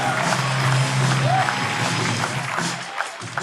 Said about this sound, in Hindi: शीजा चतुर्वेदी के लिए जोरदार तालियां दोस्तों, प्लीज जोरदार